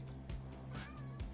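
A house cat meows in a workshop being built for robotics, the sound short and fairly close with a brief rising cry among low background hum.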